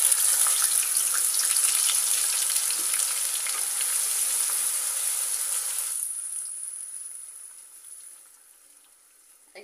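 Onion paste hitting hot oil in a pan, a loud, bright sizzle that fills the first six seconds, then dies away abruptly to a faint hiss with no talking.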